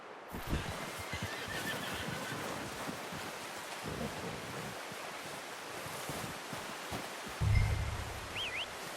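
A horse whinnies in Red Dead Redemption 2 over a steady bed of wind and surf-like ambience, with scattered hoof clops and a louder rumble near the end.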